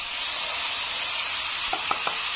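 Bay leaf, two dried red chillies and whole cumin sizzle in hot oil in a pan, a steady close frying hiss with a few soft pops near the end.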